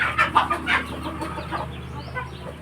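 FC hens clucking on a Thai poultry farm, a run of short, close, rhythmic clucks in the first second and a half that taper into softer, scattered calls over a low background hum.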